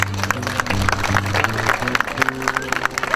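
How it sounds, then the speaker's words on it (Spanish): An audience applauds at a Spanish-language public event, a dense wash of clapping mixed with a low hum and some voices. "Le damos un aplauso, eso es"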